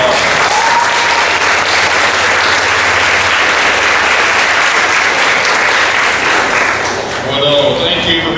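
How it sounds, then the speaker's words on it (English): An outdoor crowd applauds at a send-off for the Remember the Removal bike ride, loud, dense clapping held steadily for several seconds before tapering near the end. "National Treasure another round of applause."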